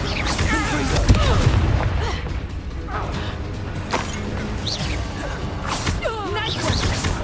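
A Bombarda spell goes off during the final boss fight against Ranrok in Hogwarts Legacy, a dense booming blast among whooshes and crashing effects, with a voice calling out over the loud, continuous game noise.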